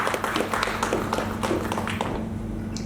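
An audience claps for actress Swati at the launch event of the TV show Rishto Se Bandhi Gauri, a dense, steady patter of many hands that thins slightly toward the end.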